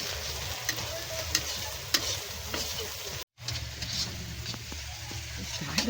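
Meat fries in a pan as ginger is added, giving a steady close sizzle broken by repeated scraping stirs and a brief dropout midway, with no talking.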